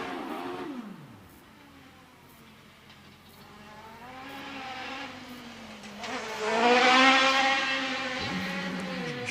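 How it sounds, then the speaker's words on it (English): A hill climb race car powered by an 1100cc motorcycle engine revs and shifts through gears in the distance, its high-pitched note sweeping up and down and growing louder as it climbs Shelsley Walsh. "1100cc bike engine."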